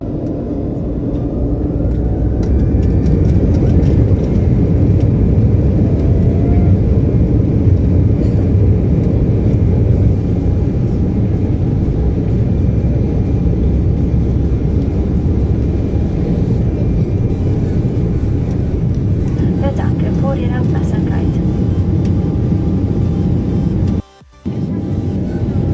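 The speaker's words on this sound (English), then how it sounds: "we got to see how good the liftoff is of the airplane" A passenger jet taking off on a rainy, foggy day, a loud, steady engine roar heard from inside the cabin that continues throughout and cuts out briefly near the end.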